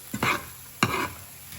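A spoon stirs mutton fried rice seasoned with garam masala in a pan, two short scraping, rustling strokes separated by a pause, close and fairly soft.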